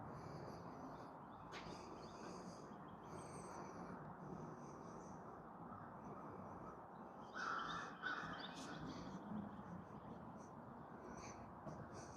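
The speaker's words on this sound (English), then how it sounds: "Freaking crows, buzzards." Crows caw faintly from a distance around an abandoned housing complex in New Orleans, a few scattered calls over a steady outdoor hiss.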